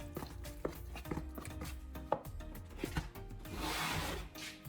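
Sawdust being worked into a cement mix by hand, giving repeated gritty rubbing and scraping strokes at close range, with a steadier, hissing scrape toward the end; no talking.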